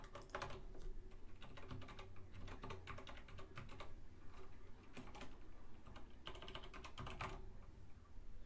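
Fingers type a URL on a computer keyboard, quick bursts of close, crisp key clicks with short pauses between groups.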